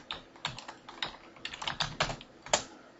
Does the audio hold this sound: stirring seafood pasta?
no